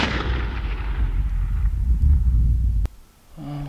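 A 6.5 Creedmoor rifle fired while sighting in fills the clip with a loud, sustained low boom and rolling echo. It cuts off abruptly near the end, leaving a quieter background.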